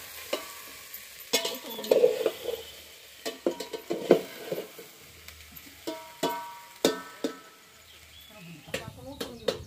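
A dried brinjal vegetable dish is stirred in a pan over a wood-fired stove, giving intermittent scraping and light sizzling, with birds chirping in the background and some nearby speech.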